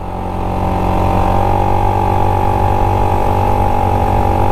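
A GY6 171cc fuel-injected engine in a Honda Ruckus scooter cruises at a steady, slightly rising drone, loud and close, with no voices.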